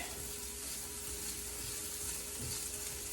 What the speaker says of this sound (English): we're just going to saute that up with the onions and the garlic